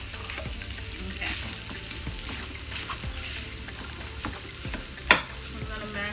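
Corned beef hash fries in a pan with a constant crackling sizzle while a utensil scrapes and mashes it, giving soft repeated taps and one sharp clink near the end, all without talk.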